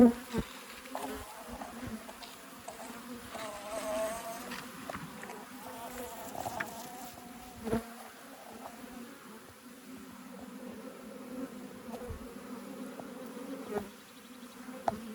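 Honeybees hum at a hive in a low, continuous drone, with a few louder buzzes passing close now and then against a quiet background.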